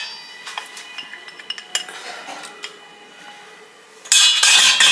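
Beaten eggs being stirred into cooked al dente pasta in a pot, with a run of close utensil scrapes and light clinks against the metal, then a sudden louder, denser burst of scraping near the end.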